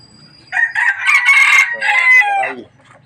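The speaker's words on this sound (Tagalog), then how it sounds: "Yung manok ko na, pakaingay nito." A labuyo-type rooster, a mestizo junglefowl cross kept on a Philippine farm, gives a single loud, close crow lasting about two seconds, with no one talking over it.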